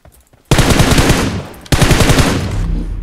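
Automatic gunfire in a PUBG Mobile solo match: two loud, rapid bursts close by, separated by a brief pause, with no voices over them.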